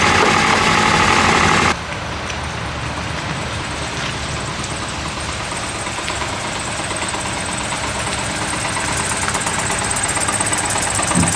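An unhealthy-sounding Subaru engine runs steadily at idle, loud and close, with a rough knocking vibration throughout and a louder burst at the very start.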